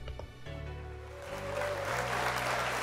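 A crowd applauds steadily, the clapping swelling slightly louder toward the end, with a low tonal hum underneath.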